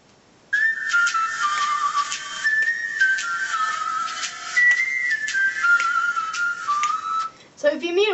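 A whistled ringtone melody, bright and tuneful, plays alone in a steady run of sliding whistle notes for about seven seconds before a brief different sound at the end.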